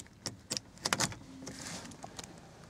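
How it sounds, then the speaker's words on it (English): A blue Fiat Punto's boot is released with its button: a few sharp mechanical clicks and a latch clunk, then a soft motorised hum as the lid lifts, heard up close without speech. "your boot button is right at the bottom there, so you press that and it opens up your boot button"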